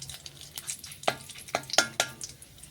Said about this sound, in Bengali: তেল ভালোভাবে গরম হয়ে গেলেই ফোড়নে দেব আমি তেজপাতা, 5 ফোড়ন, গোটা জিরে